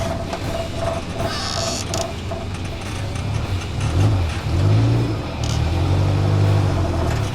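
A Suzuki Jimny converted to military Jeep Willys style, a Brimob vehicle, drives with engine hum, revving and body creaks heard up close, the engine note rising and growling more strongly toward the end.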